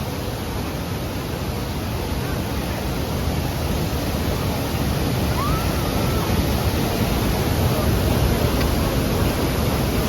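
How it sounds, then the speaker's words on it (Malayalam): Steady broadband roar of rushing water at the Hogenakkal waterfall, where people bathe nearby; a dense, continuous wash with no breaks throughout, loud and enveloping with no voices. "അതാ കാണുന്നത് ഒന്നാമത്തെ വെള്ളച്ചാട്ടം"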